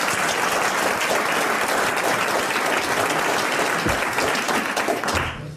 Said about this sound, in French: Vous applaudissez Madame Grandrue